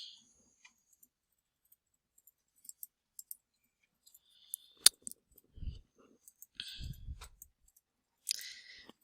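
Computer mouse clicking while working in an Excel spreadsheet, sparse faint clicks scattered across a near-silent background, with a few slightly louder taps and soft rustles.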